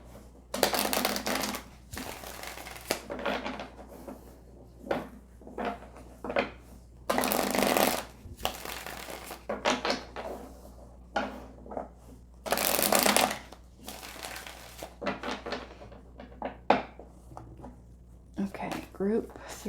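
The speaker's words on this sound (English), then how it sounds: "start off with pulling the tarot" Tarot cards being shuffled in repeated riffling bursts, crisp and close, recurring over about twenty seconds with short quiet gaps between rounds; a voice speaks now and then around the shuffles.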